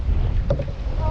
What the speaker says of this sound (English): Let's get out of the wind